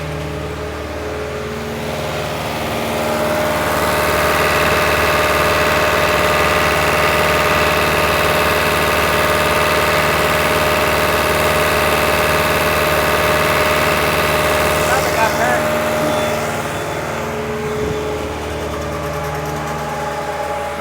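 A New Holland TL-90 diesel turbo tractor engine runs at a steady, loud drone with strong tonal hum, holding constant throughout with a slight change in texture near the end, no voices.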